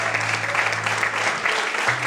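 A church congregation applauds steadily during a sermon, a dense wash of clapping that holds at an even level throughout, with a faint low tone underneath.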